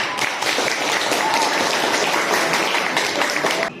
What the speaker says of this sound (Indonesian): Kita beri tepuk tangan dulu untuk Neja